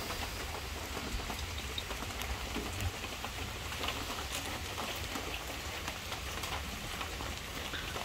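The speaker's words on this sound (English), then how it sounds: "Pouring with rain today." Heavy rain pouring down steadily, a dense, even hiss of drops with no pauses and no voices.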